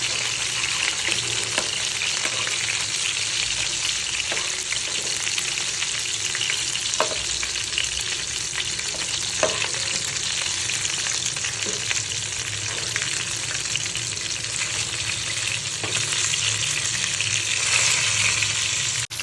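Chicken frying in hot oil in a pan on a gas stove, a steady, loud, continuous sizzle with occasional crackles and light clinks, near and alone without any talk.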